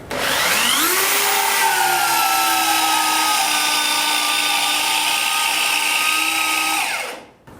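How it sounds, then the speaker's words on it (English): A power drill fitted with a 25mm spade bit bores into a wooden balustrade post, spinning up with a rising whine and then holding a loud, steady high-pitched drone for several seconds before winding down, with no talking. "with a 25mm spade bit we'll now drill our hole"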